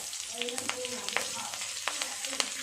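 Nigella seeds and green chillies spit and crackle in hot mustard oil, a dense close sizzle peppered with quick sharp pops over a few seconds.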